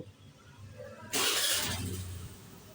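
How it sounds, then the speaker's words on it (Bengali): After a quiet moment a motorcycle engine fires up with a burst and settles into a low, steady running rumble nearby. "সো এই বাইকের আমরা সাউন্ড শোনানোর চেষ্টা করব"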